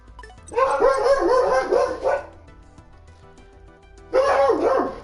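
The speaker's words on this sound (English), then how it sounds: "the dogs are going crazy about it" Several dogs bark excitedly indoors in a rapid, loud burst of overlapping yips and barks that fades briefly, then breaks out again near the end.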